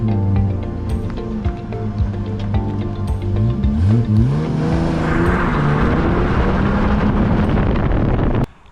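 A car accelerates hard on its first test drive, the engine note rising through the revs with a gear change partway through. The loud, close interior roar is heard over a faint knock from worn sway bar links.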